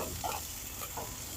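Beef ribs sizzle over a grill fire, making a steady, even hiss of browning meat up close with a few faint pops and shifts.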